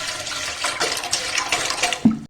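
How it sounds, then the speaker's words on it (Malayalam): About 750 ml of water pours into an old cooking pot, a close splashing gush that rises and falls, ends with a brief clunk and then goes quiet. "ഞാനിപ്പോൾ ഒരു 750 ml വെള്ളം എടുത്തിട്ടുണ്ടത്. നമുക്ക് പാത്രത്തിലേക്ക് ഒഴിക്കാം."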